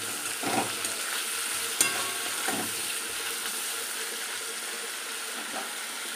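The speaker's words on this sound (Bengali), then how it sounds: "এই যে চিংড়িটা ভাজা বসিয়েছি" Prawns frying in a pan on a home stove give a continuous close sizzle and hiss, broken by a few soft stirring or spatula scrapes, with no talk over it.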